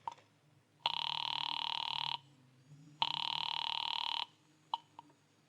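A telephone rings on the line after a number is dialed, two long buzzing rings separated by a pause, clear and steady, with a faint click at the end.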